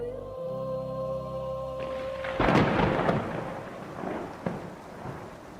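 A thunderstorm with rain opens a Macbeth audiobook chapter set in Scotland: a sustained musical tone cuts off into a loud, rolling thunderclap followed by steady rain and fainter rumbles.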